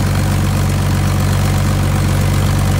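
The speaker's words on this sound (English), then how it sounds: "I think I'm going to turn the separator on real quick" Combine harvester separator switched on and running steadily, a loud continuous low-pitched mechanical drone with constant vibration close by, no voices.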